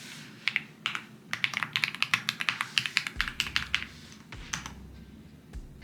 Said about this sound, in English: let me log into my computer and that you can hear the creamy keyboard